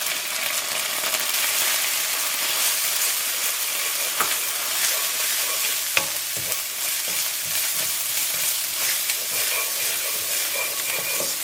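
Ginger, garlic and chili frying in hot oil with cumin and red chili powder for vegetable croquettes: a loud, continuous close sizzle with occasional spoon stirs and clinks against the pan.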